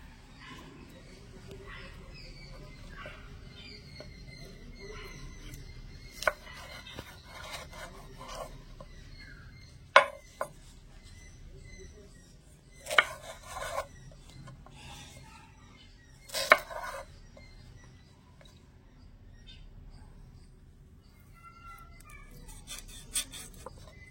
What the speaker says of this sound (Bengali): এবারে ঠিক প্রথমে আমি এরকম খোসা সমেত কেটে নেব, তাহলে কাটতে অনেক সুবিধা হবে